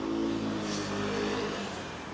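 A car on a road rolls past close by with a steady engine hum and a swelling whoosh that peaks midway and eases off, with no talking.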